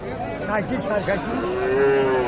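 At a busy cattle market, a cow gives a drawn-out, moderately loud moo that rises near the end, heard over a continuous hubbub of voices and crowd noise.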